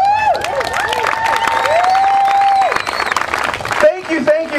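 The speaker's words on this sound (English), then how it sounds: "Thank you, thank you, thank you, but I do not need your applause." A wrestling TV show crowd cheers and applauds loudly, whistles and shouts rising over dense clapping in an arena, with a voice breaking in near the end.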